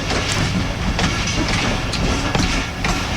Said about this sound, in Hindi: खूबसूरत एंट्री लाला मूसा रेलवे स्टेशन।